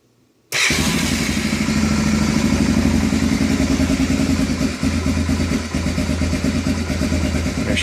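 A 1988 Honda Fourtrax 300 ATV engine bursts into life after brief quiet and runs at a loud, steady, rattly idle close by, with slight dips in the rhythm.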